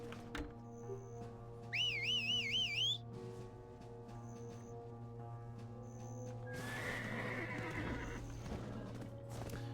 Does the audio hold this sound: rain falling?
no